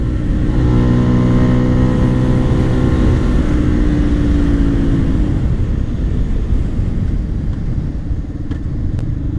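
A Bajaj Pulsar F250 motorcycle accelerates hard through the gears, loud and close, its engine note climbing in stepped harmonic sweeps before settling into a steady roar with rushing wind noise.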